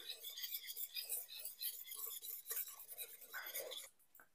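Sour yogurt is whisked in a bowl with quick, quiet, rhythmic scraping and light clinking strokes, close and faint.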